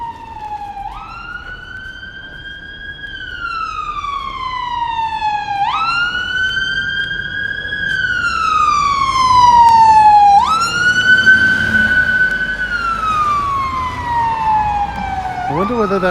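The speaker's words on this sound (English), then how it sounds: "I wonder whether that's the same fire engine." A fire engine siren on Botley Road, Oxford, wails in repeated rising and falling sweeps, growing louder as it approaches amid road traffic noise.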